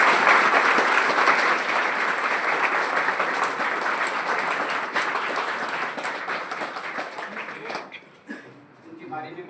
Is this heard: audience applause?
yes